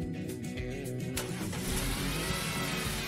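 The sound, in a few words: car engine starting and running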